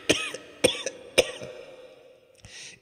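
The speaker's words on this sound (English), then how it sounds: "How long have you had that cough?" A man coughs in a dramatized reading of a gothic tale, a fit of three sharp, loud hacking coughs in quick succession, then a trailing wheeze and one weaker cough, close to the listener.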